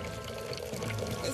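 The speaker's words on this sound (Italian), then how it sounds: "Si sta anche riempiendo d'acqua." Cartoon water pouring into a broken submarine, a brief steady gush of filling liquid with a dense rushing texture, fairly close and continuous.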